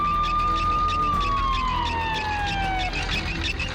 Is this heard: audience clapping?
no